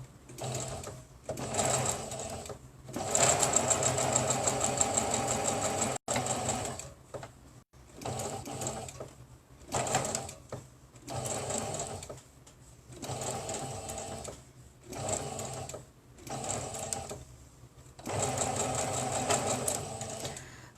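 A foot-pedal sewing machine stitches a small Christmas cutlery-holder boot in repeated short bursts of rapid mechanical whirring, separated by brief pauses as the work is turned, close and fairly quiet with no talk over it.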